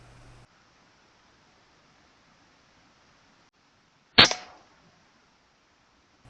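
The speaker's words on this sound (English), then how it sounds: "And I take it cleanly with the second shot." A single sharp, loud crack from a Daystate Huntsman Revere air rifle fired at a squirrel outdoors, with a brief fading tail and quiet surroundings before and after.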